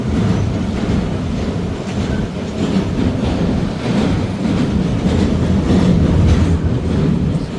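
A train crosses an old railway bridge slowly, at about 15 km/h, on the reopened line toward Jaffna. It makes a loud, continuous rumble with rattling wagons and clattering wheels close by, and no voices are heard.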